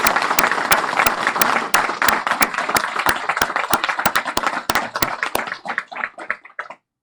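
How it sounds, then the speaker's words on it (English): An audience at a ceremony applauds Assistant Chief Diane Groomes, with loud close claps over a broad crowd applause that gradually thins into scattered claps and stops. "Can we give her one more round of applause?"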